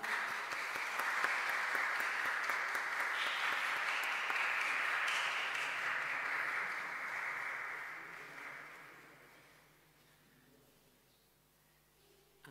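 Church congregation at a Christ the King solemnity applauding to welcome two new priests, a full steady round of clapping that gradually dies away into quiet near the end.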